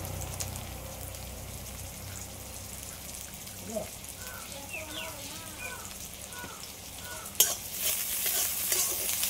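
Onion and tomato frying in a pan, with a steady soft sizzle and occasional stirring scrapes, plus a sharper clatter near the end; a faint voice sits in the background.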